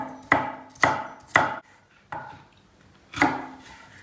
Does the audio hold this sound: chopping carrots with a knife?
yes